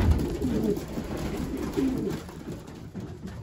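Racing pigeons cooing inside a loft, soft repeated low coos close by over a steady background hum, with no one talking.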